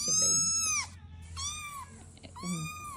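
A cat meows three times in a row, each call long and drawn out, close and clear over a faint background hum with no one talking.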